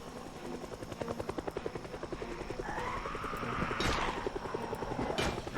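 A helicopter in the video game Project Zomboid flies overhead, its rapid rhythmic rotor chop steady and growing slightly louder, with a couple of sharp thuds near the end.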